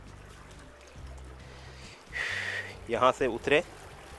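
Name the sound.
water flowing through irrigation canal (falaj) at Al Ain Oasis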